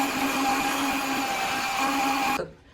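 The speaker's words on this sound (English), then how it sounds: "We're gonna use the microfiber scrub pads." A Qimedo M3 cordless electric mop fitted with microfiber scrub pads scrubs a tile floor, giving a loud, steady motorized whir that holds evenly for about two seconds and then cuts off into near silence.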